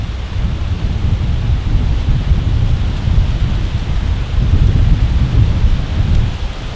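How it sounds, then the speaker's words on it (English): Strong south wind gusting outdoors on a Kansas backpacking trail, a loud continuous low rumble and buffeting roar that swells and eases in waves, with no voices. "that's exactly what we got going on here today, is south wind"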